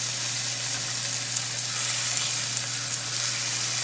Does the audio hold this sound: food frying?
yes